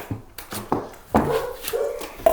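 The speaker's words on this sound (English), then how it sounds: "That dog" Nutmeg the dog barks at a house being plastered: several sharp, close barks in an uneven rhythm, separated by short pauses.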